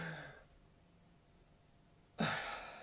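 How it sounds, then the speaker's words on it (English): A single sharp, noisy in-breath drawn through the throat during a singing exercise, heard close and alone after a quiet pause, with a faint breath fading out before it. "I felt like that in-breath lasted for a split second."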